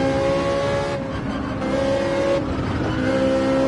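Gran Turismo 7 race car engine under throttle at Willow Springs, a steady, loud, buzzing drone whose pitch dips briefly and then climbs again as the car accelerates, with no voices.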